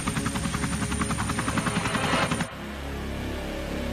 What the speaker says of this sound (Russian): Чтобы спасти пострадавших людей, на место аварии прилетел медицинский вертолет.